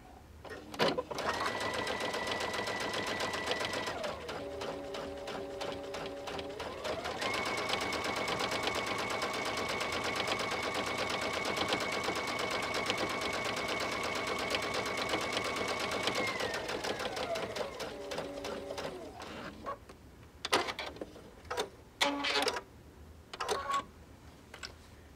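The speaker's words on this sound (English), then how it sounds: "This belt is going to be moving, so you will hear that as you're sewing" A Brother/Baby Lock sewing machine fitted with a digital dual feed walking foot stitches through a quilt sandwich, giving a long, steady whirring hum that shifts pitch a few times, then stops and leaves a few short clicks and knocks near the end.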